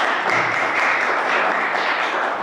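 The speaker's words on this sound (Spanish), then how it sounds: "Un aplauso, otro aplauso." An audience at an innovation event applauds in a dense, sustained wash of clapping, steady and fairly loud with no speech on top.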